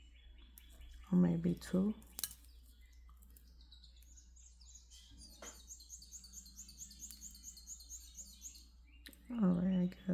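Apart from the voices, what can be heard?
birds chirping and singing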